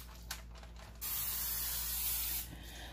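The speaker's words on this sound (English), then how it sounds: "I'm just going to spray it with the spray on both sides." A short initial spritz of cooking oil spray onto tandoori chicken skewers, then a sustained hissing spray lasting over a second, followed by another burst starting near the end.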